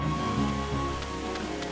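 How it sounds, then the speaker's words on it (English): Rain in the Pokemon Ultra Moon video game, a steady soft hiss of falling drops running throughout, layered over the game's tonal background music at a constant level. "Ah, it's raining."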